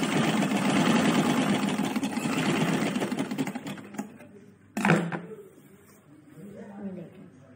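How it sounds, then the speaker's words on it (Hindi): A sewing machine runs in a fast, steady buzzing stitch while attaching a zip pocket, close and loud for several seconds before stopping, followed by a short handling clunk and a person talking. "फिर आप इसको बराबर से ही रख कर सिलाई को कंप्लीट कर दो।"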